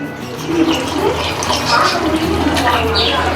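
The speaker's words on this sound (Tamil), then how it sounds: "இப்போ நம்ம குழம்புக்கு தேவையான தண்ணி ஊற்றிக்கலாம்" Water splashes steadily into a pot in a continuous pour, close and fairly loud, with a low hum underneath.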